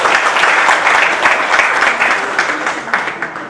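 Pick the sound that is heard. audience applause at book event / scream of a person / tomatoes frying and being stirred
audience applause at book event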